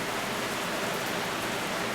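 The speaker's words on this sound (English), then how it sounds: "that rain is coming down" Heavy rain comes down in a dense, steady hiss, constant and enveloping throughout with no other sounds standing out.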